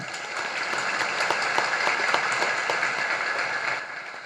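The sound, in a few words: audience applause at a religious discourse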